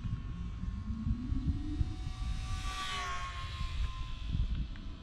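A distant RC model airplane engine makes a full-throttle pass, its faint whine rising and falling as it flies by over steady outdoor wind noise.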